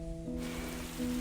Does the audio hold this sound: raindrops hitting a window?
yes